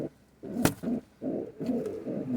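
A pigeon coos close by, several low throaty rolling calls in a row with short pauses, plus one sharp knock partway through, with no talk.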